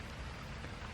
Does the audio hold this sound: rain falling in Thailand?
yes